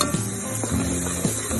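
Crushed lemongrass dropped into a hot pan sizzles loudly and steadily, with a couple of brief scraping stirs, close up and alone.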